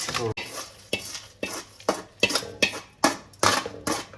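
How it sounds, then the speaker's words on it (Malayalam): A spoon scrapes through flattened millet mixed with fried sesame seeds and roasted gram in a pan. The strokes are close and loud, coming in a regular rhythm about every half second with no talk. "ഇനി നമുക്കിത് കൊണ്ടുപോയി അതിനകത്തിലേക്ക് മിക്സ് ചെയ്യാം"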